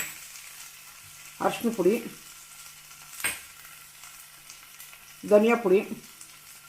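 Potato rice masala frying in a home kitchen pan while turmeric and coriander powder go in, a low steady sizzle running beneath two short bursts of talk.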